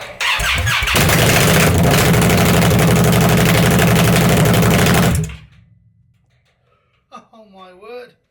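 An Indian Scout Bobber motorcycle engine with its exhaust mufflers removed fires up and roars loudly and raw for about five seconds, then cuts off, leaving near silence before a person briefly speaks.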